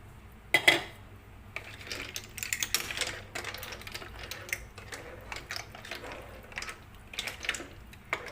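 Raw clams dropped into a cooking pot for an Indian clam curry, giving a loose jumble of shell clacks and clinks against the metal, close and moderately loud, with no voices.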